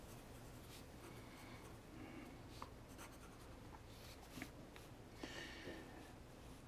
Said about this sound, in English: I'm going to write that down too because we're going to need that.